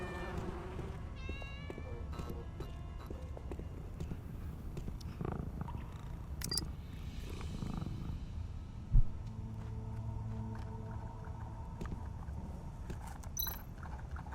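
Kitten purring in the video game Tales of the Neon Sea, a soft steady rumble running throughout under faint game ambience, with a few meow-like tones near the start.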